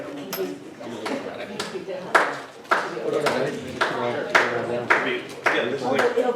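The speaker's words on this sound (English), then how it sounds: "Slow clap." A slow, steady round of hand clapping at a student senate meeting, about a dozen evenly spaced claps close by, with people talking over and between them.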